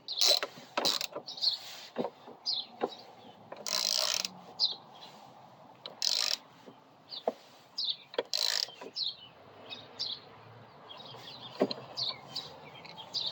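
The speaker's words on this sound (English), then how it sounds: "Now we'll get our two top bolts snugged up." Bolts being snugged up by hand on a Coleman B200RSV mini bike during a suspension lift mock-up: a run of short metallic ratcheting clicks and taps, close and fairly quiet, with no talking.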